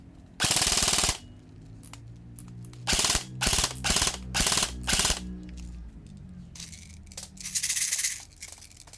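Airsoft rifle, apparently an ICS TR9, GHK HK416A5 or similar, firing a long full-auto burst, then several short rapid bursts in a row, close and loud with mechanical clatter between them and no talking.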